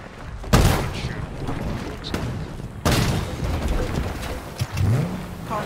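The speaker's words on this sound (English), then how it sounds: "Why are people shooting?" Gunfire and explosions in the video game Halo Infinite: two loud, sharp booms a couple of seconds apart, each trailing off into rumbling noise, with smaller shots and engine-like rumble between them and a brief voice.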